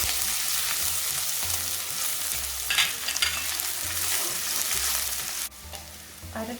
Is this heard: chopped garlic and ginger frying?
yes